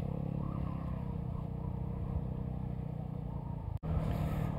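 A Vespa GTS 300 scooter rides over a potholed road, its engine a steady close drone with a brief dip near the end, no voices.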